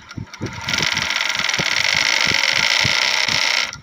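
A flatlock sewing machine, just fitted with a new foot and plate, whirs into a fast, steady stitching run for a few seconds, preceded by soft clicks and taps.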